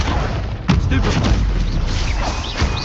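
A Stupefy spell is cast in Hogwarts Legacy during combat, a sharp magical blast that lands at once and is followed by crackling impacts, with other spell effects and music going on under it.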